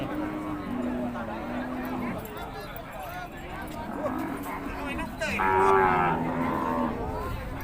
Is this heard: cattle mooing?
yes